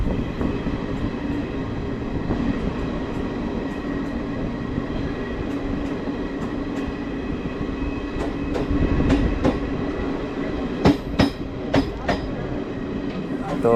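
A passenger train between Prayagraj and Varanasi rolls along the rails with a steady rumble, rhythmic clicks of the wheels, and a few sharp metallic clacks near the end.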